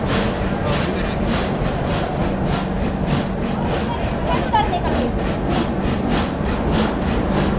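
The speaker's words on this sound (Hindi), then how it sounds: "ट्रैक साउंड तो काफ़ी बढ़िया आ रहा है यार" The 11019 Konark Express runs along the track toward Bhubaneswar, giving a loud, steady rolling roar with regular clickety-clack wheel beats repeating throughout, heard from inside the coach.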